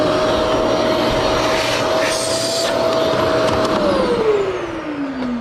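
A bagless vacuum cleaner found in an alley runs with a loud, steady whining roar, its pitch sliding downward near the end as it winds down.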